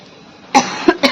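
A person suffering from a lingering illness coughs three times in quick succession, close and loud, after a brief quiet moment, with no talking.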